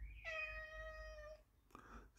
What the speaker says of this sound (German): Super langgezogenes Miau?